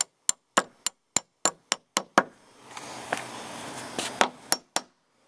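A hammer taps a bolt into a slightly undersized hole while a porch is being finished: about eight sharp, evenly spaced knocks, then a short stretch of rustling with a few scattered hits, and three final taps, all close and distinct.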